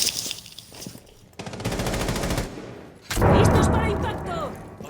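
Exchange of rapid gunfire between players in a Rainbow Six Siege esports match, a steady automatic burst followed by louder, denser shots, with caster talk running underneath.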